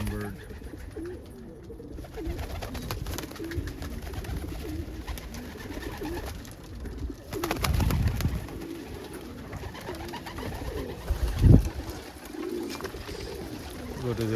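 Pigeons coo softly in a loft with cock birds and hens, a low murmuring chorus running steadily under quiet background sound, with a brief louder bump near the end.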